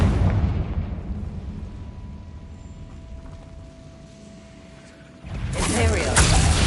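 A Confringo fire spell goes off in Hogwarts Legacy with a loud burst and whoosh at the end, following a quieter stretch of rumbling game sound.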